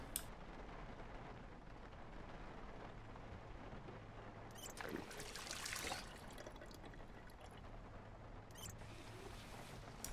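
Water pours and trickles as a container is topped off in a video game, a faint splashing burst midway over a quiet background.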